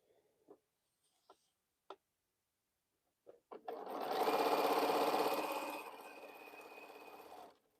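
A sewing machine stitches quilt pieces. A few faint clicks come first, then a loud, fast, steady run of stitching that eases off toward the end, with no talking.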